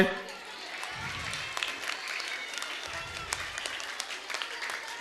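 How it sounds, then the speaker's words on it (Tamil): A school audience at a municipal middle school's annual day in Vellore claps in a broad, steady wash of applause, with low thumps and a few sharper claps rising above it. "நல்லா கைத்தட்டு"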